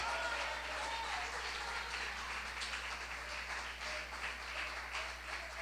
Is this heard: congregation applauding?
yes